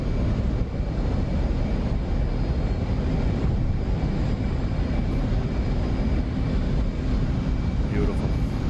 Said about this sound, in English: There's the Super Hornet off of the Super Carrier.